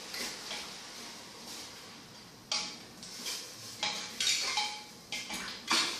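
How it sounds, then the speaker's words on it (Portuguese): Tuscan sausage is stirred in a cooking pot, a string of sharp metallic clinks and scrapes of a utensil against the pan, irregular and fairly close, with quiet gaps between strokes. "Aí agora vamos colocar a nossa linguiça. E vou dar uma mexidinha."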